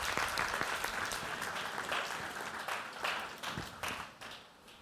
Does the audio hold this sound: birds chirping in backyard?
no